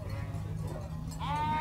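Sheep bleat at a goat and sheep market in São Bento do Una, Pernambuco, with one clear, close bleat near the end over a steady hum of crowd and animal background noise.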